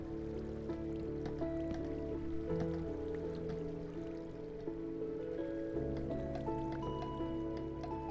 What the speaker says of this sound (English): I hope that water sound isn't making you want to pee.